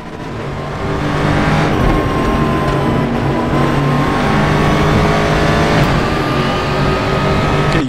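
A Mustang GT3 race car engine in the RaceRoom racing game at the Nordschleife roars loud and continuous, holding a high, strained pitch with brief shifts in revs as it drives on, with no talking.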